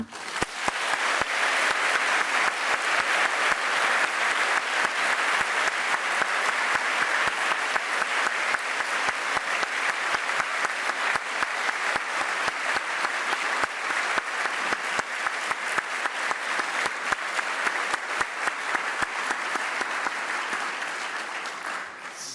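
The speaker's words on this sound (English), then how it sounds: "I would ask you to applaud his life, to applaud his contributions to science." Sustained audience applause at a keynote lecture on unstable repeat expansions, steady dense clapping throughout in a large hall, with no speech over it.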